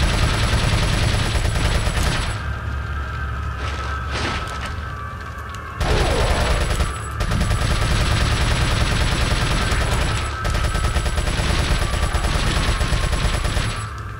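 Repeated gunfire in Resident Evil 4 hits hard and close, with bursts of shots and booming impacts spread across the stretch, separated by brief lulls before the firing resumes.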